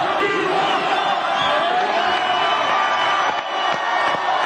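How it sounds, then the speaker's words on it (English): A large crowd screams and roars continuously, with shouted chant-like cries rising over the din from a distance. "Everybody's screaming right now."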